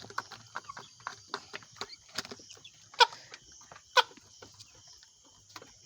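Free-range desi chickens about 60 days old and roughly 2 kg each, kept on a small farm, give scattered soft clucks and pecking taps, with two sharper, louder calls close by.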